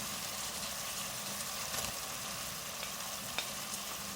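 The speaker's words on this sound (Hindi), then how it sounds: "भूनेंगे मसाले को" Garlic ginger paste, salt and chopped green chillies frying in oil with masala in a karahi, a steady close sizzle running evenly throughout with a few faint clinks from stirring.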